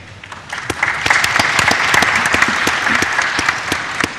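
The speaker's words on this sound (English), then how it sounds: "please give yourselves a round of applause for making time to be with us here today" Audience applause fills the room at a business strategic plan launch event, building quickly into dense, crisp clapping from many hands that holds steady for a few seconds.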